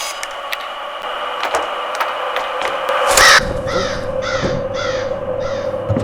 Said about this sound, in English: There's another crow in front of me.